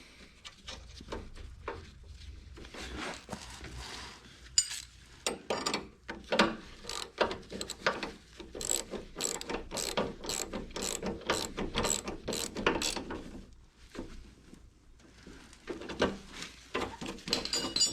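A ratchet wrench tightening a nut on the wheel bolt of a Toro snowblower, with rapid runs of crisp metallic clicks in bursts separated by short pauses, close up and steady, with no talking.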